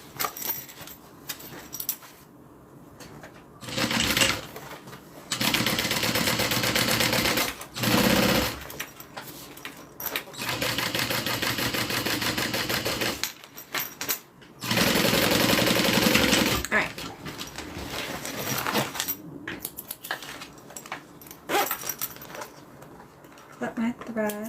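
A home sewing machine stitches fabric for a Colette garment in loud, fast whirring runs of a few seconds each, broken by pauses with clicks and handling noise, and people talk between bursts.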